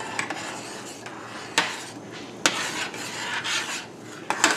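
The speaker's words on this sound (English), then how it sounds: "I'm going to cook it, stirring constantly for about 4 to 5 minutes" Polenta being stirred in a pot, low-fat vegan with no oil, a utensil scraping and rubbing against the pot in irregular strokes with a few sharper clinks, close and moderately loud, no talking.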